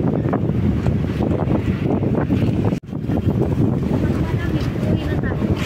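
Gusting wind buffets the microphone beside an outdoor pool after rain, a loud, continuous rushing roar with people talking under it.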